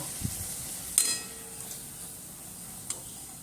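Luchi, puffed wheat flatbread, frying in hot oil in a home kitchen, a soft steady sizzle with a sharp utensil clink near the start and a few faint taps later.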